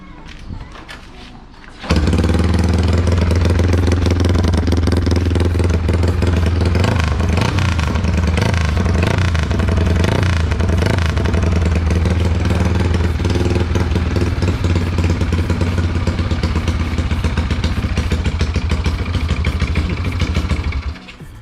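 Close and loud, a rebuilt Honda Wave 125 motorcycle engine starts up and runs steadily for about twenty seconds with a dense, rattly, throaty idle and slight revving.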